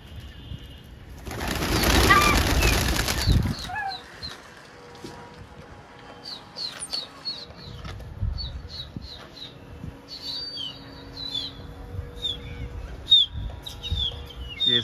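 Patiala pigeons burst into a loud flutter of flapping wings near the microphone, followed by softer bird chirps and coos among the flock, with someone talking intermittently.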